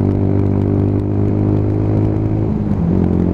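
A Lexmoto Tempest motorcycle pulls away from a rolling start, its close, steady engine burbling loud and even, then shifting pitch briefly near the end as it changes speed.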